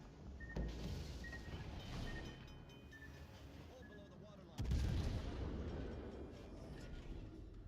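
Warship guns fire in a naval battle in World of Warships: Legends, with two heavy booming salvos landing several seconds apart over a rumbling background of engine and battle noise.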